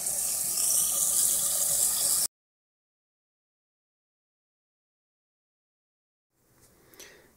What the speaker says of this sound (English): wash the cabbage, give it about 3 rinses to get the salt out